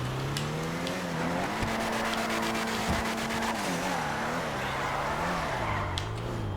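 Engine drone of a classic Ubermacht Zion Classic, a BMW-style sports classic, driving in GTA Online, holding a steady pitch that rises and dips through gear changes and corners, with a few faint clicks over the continuous hum.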